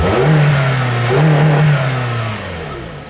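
A Toyota Corolla sedan's 1.6-litre four-cylinder petrol engine revs up close and loud in two rising pulls before easing off, with no one talking.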